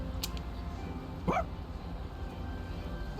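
Koro-chan, a dog in the video game Persona 3 Reload, gives a single short bark over a steady game background hum.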